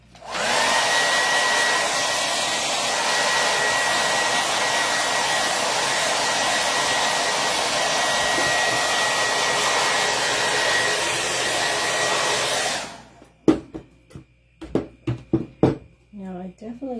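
A handheld hair dryer drying a freshly spray-painted planter box blows with a loud, steady roar for about thirteen seconds, then switches off, followed by a few clunks and handling knocks.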